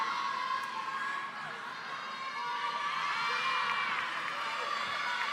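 Spectators up in the rafters at the NCATA Nationals semi-final, Baylor vs Oregon, cheer and whoop continuously as a loud, dense crowd roar with shrill shouts rising and falling throughout.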